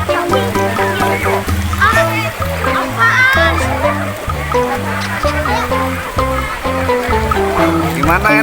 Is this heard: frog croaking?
no